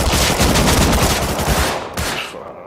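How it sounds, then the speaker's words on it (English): Heavy gunfire from big guns in the Rust console video game, a rapid, loud burst of repeated shots firing almost continuously before briefly breaking off and resuming. "we're bringing out the big guns"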